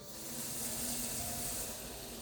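Water pours into a pot of rice for cooking, a brief, steady hissing gush that swells and holds at close range, with no one talking.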